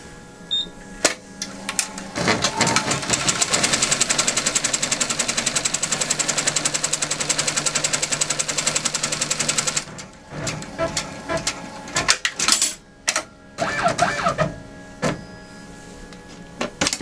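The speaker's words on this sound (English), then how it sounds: "sew the tack down" A sewing machine runs in a fast, steady stitching burst for several seconds while tacking down a crazy quilt block, then stops, followed by scattered short whirs and clicks.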